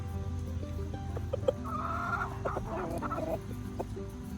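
Barred Rock hens clucking in a nesting box, a close run of low repeated clucks and a drawn-out grumbling call, steady throughout with no talk.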